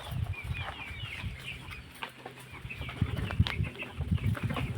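Chickens cluck and call in an areca nut plantation on a poultry farm, with irregular clucks and short squawks close by against quiet outdoor background.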